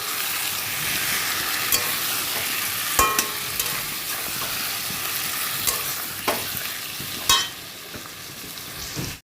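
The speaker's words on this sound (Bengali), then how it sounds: "এবার টমেটো আর কাঁচা লঙ্কা বাটাটা দিয়ে কিছুক্ষণ কষানো।" Tomato and green chili paste frying in a pan over cooked ginger, coriander and cumin, giving a steady loud sizzle broken by occasional sharp clicks and scrapes of a spoon stirring, no speech.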